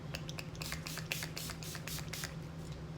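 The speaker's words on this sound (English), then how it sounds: "I'm going to go back in with that Urban Decay De-Slick Setting Spray" A rapid series of short, airy bursts of Urban Decay De-Slick makeup setting spray, repeated several times in quick succession over a steady low hum.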